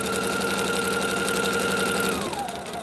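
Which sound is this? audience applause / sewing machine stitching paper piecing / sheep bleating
sewing machine stitching paper piecing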